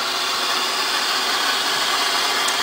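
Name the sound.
supercharged 2.8 liter car engine running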